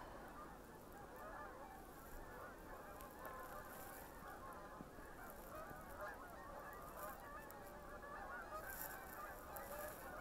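Migrating geese fly overhead on a bitterly cold, windy February day in Canada, a flock honking continuously at a distance in a dense chattering chorus, with no other sounds.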